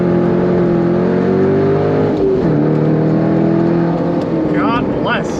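A Corvette C5 Z06 on new Michelin tires accelerates hard, its engine note loud and close, rising steadily, dipping at a shift and climbing again, with a brief tire or wind squeal near the end.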